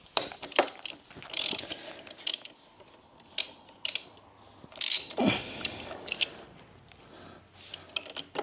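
A ratchet socket undoing the lower shock bolt on a Suzuki DRZ400E dirt bike, heard as bursts of close, rapid metallic clicking with short pauses and occasional clanks of tools.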